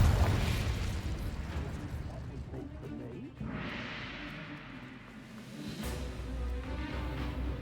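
Spell blasts from the Hogwarts Legacy video game, Incendio and Confringo, land as rumbling fiery bursts and booms under continuous game noise, with a voice speaking in the game.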